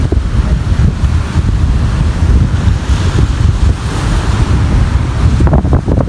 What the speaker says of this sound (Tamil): பாருங்கள் அலையின் வேகம் எப்படி இருக்குன்னு சொல்லிட்டு